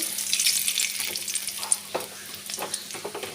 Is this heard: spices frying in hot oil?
yes